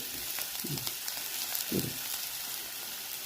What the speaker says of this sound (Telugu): ఇవి కొంచెం ఉల్లిపాయలు కొంచెం ఎర్రగా అయ్యే వరకు వేయించుకోవాలి